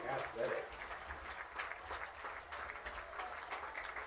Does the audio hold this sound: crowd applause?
yes